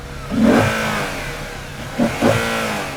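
An Audi RS4's red-headed engine revs up hard once and holds, then blips twice in quick succession, loud and close with no talking.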